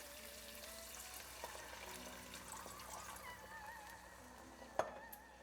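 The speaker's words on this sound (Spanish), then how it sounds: "Ahora vamos a cubrir con agua." Water poured into a pot over browned pork belly and its released juices, a steady close rushing splash that runs throughout, with a sharp clink near the end.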